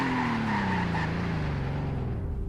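Car tires skidding under braking in the Roblox game Greenville, a loud sustained squeal with a tone sliding slowly downward over engine rumble, continuous for the whole stretch.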